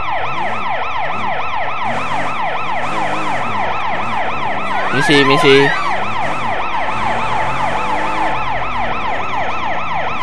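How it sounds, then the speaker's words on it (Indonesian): A loud, close ambulance siren wails in the video game Sleeping Dogs, rising and falling in a steady rapid cycle, with a brief burst of other noise midway and a short spoken word. "Awas. Ada ambulan."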